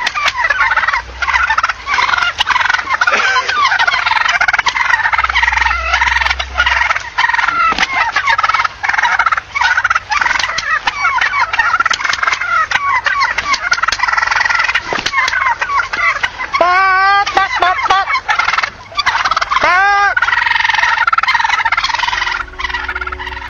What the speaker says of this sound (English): Apparently, the turkeys didn't have a good sense of self-preservation.